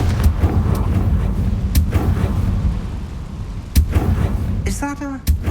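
A Confringo blasting-curse spell explodes in Hogwarts Legacy, heard as several sharp booming blasts over a rumbling game background, with a brief tonal magical flourish near the end.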